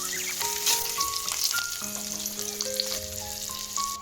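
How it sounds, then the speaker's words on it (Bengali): Swan eggs fry in melted butter and oil in a wok with a loud, continuous crackling sizzle. Faint tonal background sounds run underneath it. "এবার এটা ভালোভাবে এপিট ওপিট করে আমি ভেজে নেব।"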